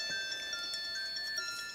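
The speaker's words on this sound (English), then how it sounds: "It's too early to be getting phone calls." A phone ringtone sounds during a decoupage craft session, a steady electronic tone with sustained pitched notes that plays continuously at moderate volume with no talking.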